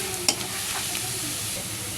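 Onion and garlic with whole cumin seeds fry in a pan for a tomato chutney, giving a steady close sizzle with a brief stirring clatter near the start.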